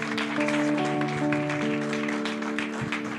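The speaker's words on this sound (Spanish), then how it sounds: "Dele un aplauso nuevo al Señor." A church congregation applauds during a service, continuous clapping from many people mixed with sustained musical tones, fairly loud and steady with no clear pauses.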